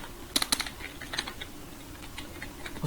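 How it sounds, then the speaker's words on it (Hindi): An iframe tag is typed on a computer keyboard in a quiet room: a short burst of crisp, close key clicks early on, then a few scattered lighter taps. "मैं यहाँ पे टैग लिखता हूँ आई फ्रेम।"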